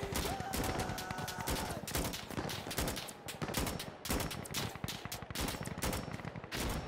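Insurgency: Sandstorm firefight with dense, loud gunfire: many rapid shots crack close by in uneven bursts almost without a break throughout.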